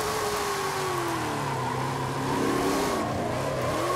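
A 1750 hp Ford F-450 dually pickup on drift tires in Forza Horizon 5 revs its engine loudly and steadily, the pitch sagging and then climbing with clutch work as it drives, with no talking.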